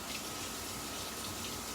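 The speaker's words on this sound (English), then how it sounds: "Wash my hands" Tap water runs steadily in a kitchen while hands are washed between handling raw chicken thighs and seasoning, a constant close splashing gush with no talk.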